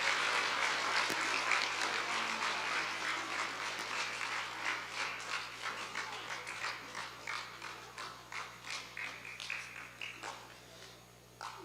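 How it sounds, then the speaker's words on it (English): Round of applause from a school assembly audience for Year 3 merit award winners, many hands clapping steadily and then thinning into scattered claps that fade toward the end, over a low steady hum. "Can you please give these merit award winners a round of applause?"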